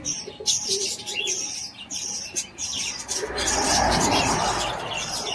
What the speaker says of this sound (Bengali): এটা হলো চিনি মাদি পায়রা